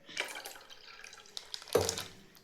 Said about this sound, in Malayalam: ആ ഒരു ക്ലാസ്സിൽ പറ്റി പിടിച്ചതൊക്കെ നമ്മൾ വാട്ടർ ഒഴിച്ചിട്ട് നമുക്ക് ഇതിലോട്ടാക്കാം.